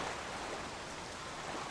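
Light rain in the Wave Race: Blue Storm video game makes a steady, soft, even hiss that holds throughout, with no voices.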